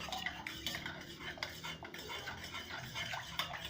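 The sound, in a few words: stirring milk in one direction to make yogurt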